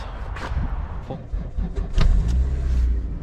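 Toyota MR2 Spyder roadster pulling away, its engine rising from a low rumble to a louder, steady drone near the end.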